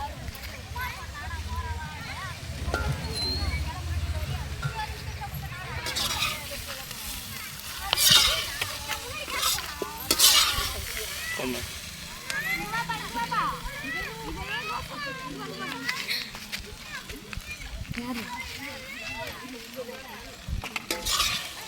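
Vegetable fried rice with soybeans is tossed and stirred in a hot pan, giving a steady sizzle broken by repeated scraping and clattering strokes, with a person talking over it throughout.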